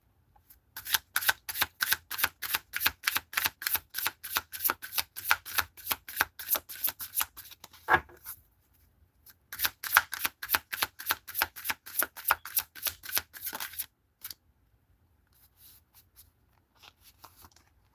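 Tarot cards riffle-shuffled in rapid bursts, two long runs of crisp flicking separated by a pause, close and clear, then a few quiet handling sounds.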